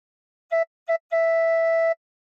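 Three clear tin whistle notes on the same pitch, played with holes 1 to 4 covered: two short toots followed by one long held note, played alone.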